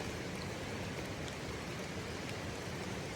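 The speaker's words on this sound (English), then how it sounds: "Dude, we need this rain to go away. It's stinking annoying." Steady rain falls beside a high, fast river during a cutthroat and steelhead fishing trip, a constant broadband hiss of drops and rushing water with no breaks and no voices.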